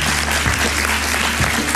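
A studio audience applauds for Michal Suchánek at a talk show's farewell, with steady, dense clapping throughout and no voices on top.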